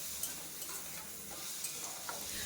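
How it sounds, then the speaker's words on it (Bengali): Vegetables stirred with salt in a pan over a medium-low gas flame, giving a soft continuous sizzle broken by light scraping strokes of the spoon, fairly quiet and close. "হাফ টিস্পুন নুন দিয়ে ভালো করে সবজিগুলোকে নাড়াচাড়া করে নিচ্ছি"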